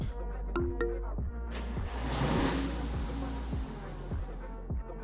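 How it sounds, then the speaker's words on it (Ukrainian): A jeep's engine in the video game GTA cranks and turns over with a heavy, truck-like low rumble, pulsing steadily, with a brief whooshing rush partway through, close and fairly loud throughout. "та він заводиться як фура"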